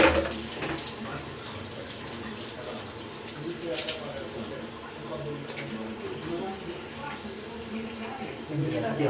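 Tap water runs steadily while a cat is bathed in a sink, a continuous splashing wash under a person speaking throughout.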